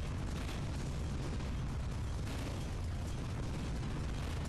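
A loud, sustained explosion roars as the Doom Ball is destroyed in the video game Tower of Guns, a dense continuous blast rumble with no voices.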